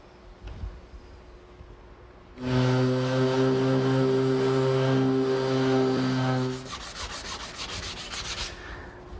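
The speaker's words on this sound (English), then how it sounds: "I want to turn to my sander and feather all the edges so that they just blend in with the wood" A power sander feathers the fiberglass-taped edges of a wooden boat hull, a loud steady humming drone with a rough grinding texture for about four seconds, then a quieter rasping scrape as it winds down.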